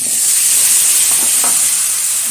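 Potatoes drop into hot oil with turmeric in a wok, giving a loud, steady, close sizzle and hiss that holds unbroken for the whole moment, with no talking over it.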